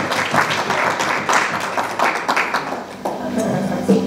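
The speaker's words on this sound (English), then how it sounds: "Give her a round of applause." Audience applause and cheering at a live mentalism show as a woman volunteer comes up to the stage. The clapping is lively and moderately loud, with a whoop and some voices mixed in.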